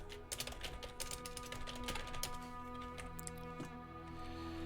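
Rapid keyboard typing with dense, irregular clicks and a short pause partway, close and fairly quiet, over steady background hum while a modded game plays.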